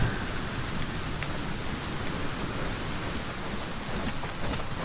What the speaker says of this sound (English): that rain is going to be good, because that is hopefully going to fill up pretty much everything